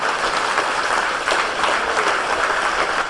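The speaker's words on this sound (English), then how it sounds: "if you want to join in appreciation with a round of applause" An audience at a 2013 national league speedway meeting between Kent and Plymouth claps in a sustained, dense round of applause, steady and fairly loud throughout with no pauses.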